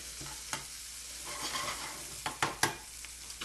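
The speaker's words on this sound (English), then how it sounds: "Give that a little stir." A spoon stirs carrots through chicken soup in a pot, giving a soft continuous swish with a few sharper clinks and scrapes toward the end, close and moderately quiet.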